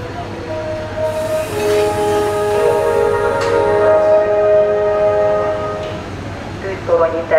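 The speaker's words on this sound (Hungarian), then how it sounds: "Tűztorony Intercity vonat indul Budapest Kelenföldre a 6. vágányról." The Tűztorony Intercity train pulls out of platform 6 at a Hungarian station, bound for Budapest Kelenföld, with a loud steady rumble and high whining wheel squeal throughout while a station announcement plays over it.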